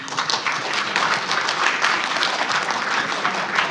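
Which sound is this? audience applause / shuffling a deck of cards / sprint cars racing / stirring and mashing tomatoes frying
audience applause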